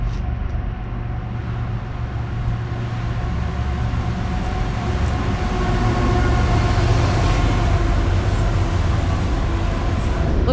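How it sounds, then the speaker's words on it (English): Union Pacific intermodal freight train led by two Tier 4 locomotives, passing near a transportation museum with a steady, loud rumble and rolling rail noise that builds slightly and holds throughout. "There's a train coming."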